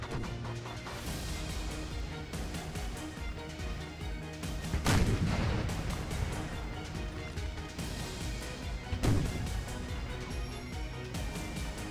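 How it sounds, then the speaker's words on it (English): A massive artillery battery firing in Napoleon: Total War, heard as booming cannon blasts about four seconds apart over a constant rumble of battle noise. "I can understand they've made a massive artillery battery here."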